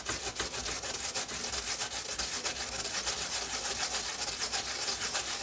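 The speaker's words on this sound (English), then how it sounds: "I just run the carrot up and down over that" A carrot is grated on the coarse side of a grater for carrot cake, making a close, steady rasping scrape with quick rhythmic up-and-down strokes and no talk.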